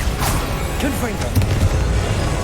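A Confringo fire spell blasts during a Hogwarts Legacy boss fight, a dense, noisy burst inside a constant wash of battle effects, with a sharper hit partway through and a brief voice-like sound from the game.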